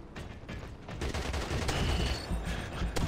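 Rapid automatic gunfire in the online shooter game CrossfireX on Xbox Series X, a loud, close, continuous volley of rattling shots with sharp cracks, intensifying after the first second, with no voices.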